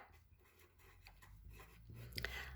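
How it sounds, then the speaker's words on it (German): Faint, soft scratching of a pen writing trigonometric math terms by hand, short quiet strokes close by with no voices. "Schreiben wir einfach ab."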